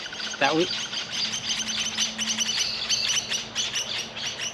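Birds chirping outdoors in a paddock, rapid bright tweets repeating throughout at close to moderate distance, with a person talking over them at times.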